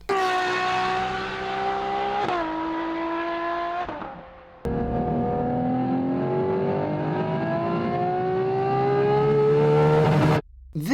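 Supercar V12 engine with a 65-degree bank angle revs hard and loud for about ten seconds, its pitch climbing in sustained pulls broken by brief gear-change dips, with no talk over it.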